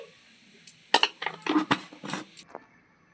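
Mustard seeds, poppy seeds, green chillies and salt are ground together into paste, giving a short run of sharp clinks and scraping knocks that cluster in a busy burst, then stop.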